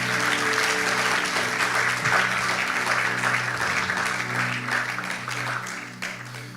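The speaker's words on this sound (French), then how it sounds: "Acclame très fort, on va avancer." A church congregation applauding loudly, dense continuous clapping with cheers that holds steady and then begins to fade toward the end, with a sustained organ-like tone underneath.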